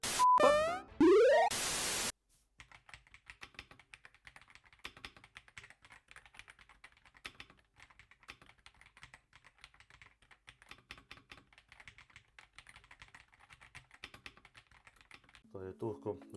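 Typing on a mechanical keyboard fitted with brown switches, many quick, light clicks in an irregular rhythm, quiet and close, following a brief burst of louder noise at the start.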